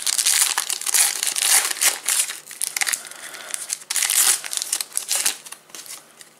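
A Match Attax 101 2022 multipack card wrapper is torn open and crinkled by hand, with bursts of crackly foil rustling that come close and loud in uneven waves, and no talking.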